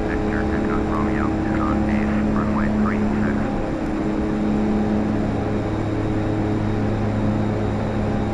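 A DHC-6-300 Twin Otter twin-propeller aircraft in Flight Simulator X, a steady droning engine hum with a constant tonal whine throughout, while a person talks over it.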